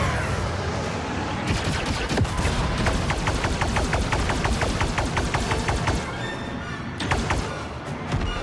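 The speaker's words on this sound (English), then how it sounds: "Turret activated, Kay." Rapid bursts of turret gunfire in Star Wars Outlaws, dense volleys hammering loudly and continuously with thumping impacts throughout, stuttering briefly near the end before resuming.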